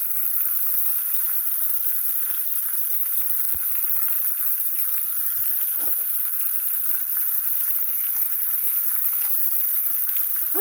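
Bacon fries in a pan with a steady, bright sizzle throughout, broken by a few soft pops and crackles, close and continuous with no talking.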